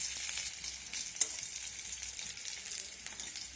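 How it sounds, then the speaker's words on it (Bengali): Chopped garlic and green chilies sizzle steadily in hot oil while being stirred in a pan, a continuous close hiss with a few small spatters and no talking. "এখন রসুন আর কাঁচা লঙ্কাটাকে এর কাঁচা গন্ধ চলে যাওয়া অবধি আমি এইভাবে নেড়ে চেড়ে ভেজে দেব।"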